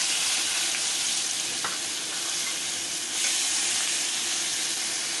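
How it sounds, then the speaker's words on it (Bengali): Grated onion frying in a pan with a little nigella seed, a dense, steady sizzle and crackle close up with no voices. "পেঁয়াজ ভাজা না হওয়া পর্যন্ত আমাকে একটু অপেক্ষা করতে হবে।"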